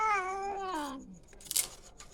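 A cat trapped in a pigeon coop lets out a loud, drawn-out caterwauling yowl that falls in pitch, followed by a brief scuffling burst, with no talking.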